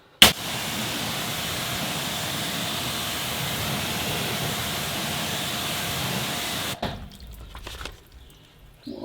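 Water sprays steadily over a car wheel as it is rinsed down, a loud continuous hiss lasting about six seconds before cutting off, followed by quieter dripping and handling sounds.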